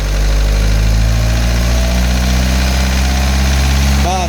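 Car engine held at a steady, loud hum throughout during a MAF sensor diagnosis, close up, with no clear rev rise, ending in a brief wavering change.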